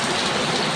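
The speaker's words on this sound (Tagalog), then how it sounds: "Ang lakas ng ulan talaga mga idol, oh." Heavy morning rain pours during a motorcycle ride, a dense, loud, continuous wash of raindrops with no pauses, close and steady across the whole short stretch.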